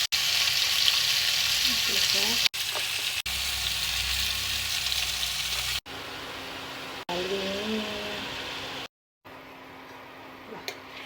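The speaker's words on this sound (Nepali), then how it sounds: "लसुन अदुवाको पेस्ट सँगसँगै फ्राई" Garlic and ginger paste frying together in a pan, a loud, steady sizzle broken by brief cuts, with occasional soft stirring clinks near the end.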